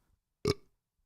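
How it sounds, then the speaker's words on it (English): A single short, loud burp erupts in a quiet setting, lasting about a quarter second. "I'm about to burp"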